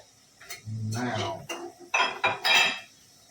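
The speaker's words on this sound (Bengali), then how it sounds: "ওই ফ্রাইং প্যানটা ধুয়ে দেবো" Metal pans clatter and scrape as a frying pan is washed, in short irregular bursts, with a voice briefly audible.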